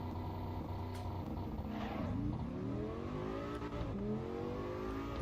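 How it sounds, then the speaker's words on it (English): Five-cylinder race car engine in the Assetto Corsa EVO racing game, revving loud and continuous with rising and falling pitch sweeps as it accelerates and shifts, heard alone without talk. "the 5-pot sounds really nice"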